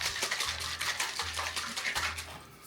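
Marinade sloshing inside a sealed bag as it is shaken for a London broil, giving a steady run of wet, rhythmic swishes close by, with no talk over it.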